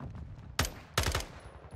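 Gunshots in Call of Duty: Modern Warfare II: two sharp, close bursts of automatic fire, the second a rapid triple, fired in a startled reaction after a figure passes a window, with quiet moments between.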